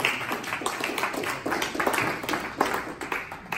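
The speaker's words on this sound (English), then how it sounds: "A round of applause, please." An audience at an awards ceremony at the University of Washington claps in a dense, steady round of applause, many hands at once, fairly loud and sustained throughout.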